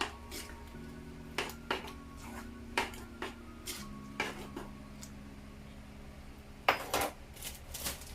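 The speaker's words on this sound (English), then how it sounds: "Give it a little stir." Seasoned coconut curry rice being stirred in a pot for a Jamaican meal, faint scattered spoon clinks and scrapes against the pot over a low steady hum, quiet and without talk.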